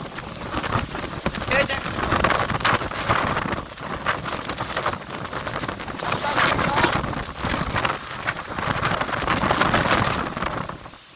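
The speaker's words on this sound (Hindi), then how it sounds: "और बहुत तेज बारिश का हवा है" A violent storm of heavy rain driven by strong wind, roaring as a loud, steady wash of noise with gusting surges throughout.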